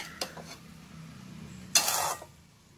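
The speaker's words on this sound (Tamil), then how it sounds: "நல்லா மிக்ஸ் பண்ணிக்கலாம்" Egg rice being stirred in a pan, giving soft scraping and a few light utensil clinks, with one louder burst of scraping near the end. No one talks.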